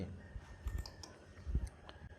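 Quiet, close keyboard key presses for a Ctrl V paste in Microsoft Excel, a few soft clicks at an uneven pace over low room noise.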